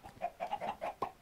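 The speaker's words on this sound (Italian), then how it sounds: "i polli mi hanno invaso, sono usciti dal mio recinto" Chickens cluck in quick short bursts inside the Minecraft video game, a run of about six clipped, close calls with brief gaps between them and nothing else heard.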